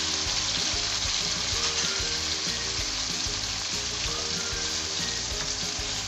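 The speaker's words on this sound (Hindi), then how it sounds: "इसके साथ ही हमने इसके अंदर प्याज ऐड कर दिए।" Onions frying in about one and a half cups of oil for spicy bhuna keema, a loud, steady, dense sizzle that carries on without a break and has a faint rhythmic stirring underneath.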